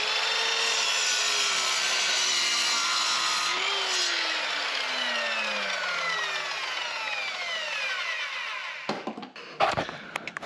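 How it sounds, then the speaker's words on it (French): A power saw with its plastic safety guard broken off cuts through pieces of wood, its loud whining tone sliding steadily downward as the blade bites, then stopping with a few clattering knocks at the end. "on va couper les bouts de bois"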